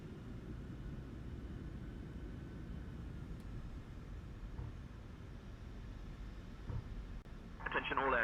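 Steady low rumble of an airliner's engines at takeoff power on the runway at Toulouse-Blagnac in Microsoft Flight Simulator 2020, a constant dull roar, with a short radio-style voice snippet near the end.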